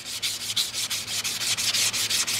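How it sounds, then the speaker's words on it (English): A crankshaft being hand-sanded with 600 grit wet sandpaper and WD-40, quick rhythmic back-and-forth rubbing strokes, close and steady, about five strokes per second. "I'm just going to sand that up a bit. So I've got some 600 wet sandpaper here."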